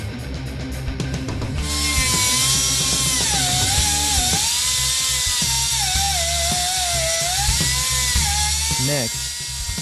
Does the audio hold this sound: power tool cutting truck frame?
yes